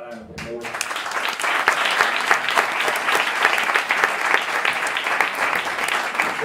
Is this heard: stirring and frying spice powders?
no